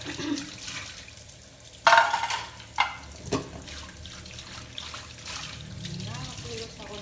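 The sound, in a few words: tap water running while washing dishes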